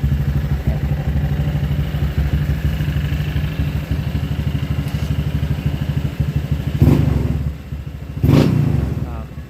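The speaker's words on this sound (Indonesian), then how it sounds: "kalau misalkan kita ngebuka gas full itu dia lebih ngeblar gitu guys suaranya" A motorcycle with a repaired, modified exhaust holds a loud, steady, rumbling idle close by, then blips the throttle twice in two short, harsh revs near the end.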